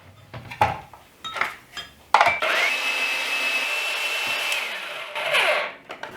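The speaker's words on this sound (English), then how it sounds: "I have a salad shooter here." An electric salad shooter shredding zucchini gives a loud, steady motor whine that runs for several seconds, preceded by a few clattering knocks as the machine is handled and the zucchini loaded.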